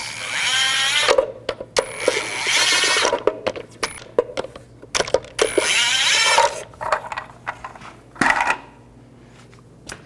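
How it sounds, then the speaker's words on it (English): A 22mm socket works the small center caps off a Chevy Silverado 2500 wheel with quick metallic ratcheting clicks and clanks in bursts. Sharper knocks and pauses come between them, close and with no talk. "You want to use a 22mm socket and carefully remove these little caps."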